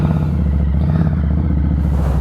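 A Harley-Davidson Street 500 motorcycle engine runs steadily up close. Its deep, even rumble stays loud throughout the short stretch.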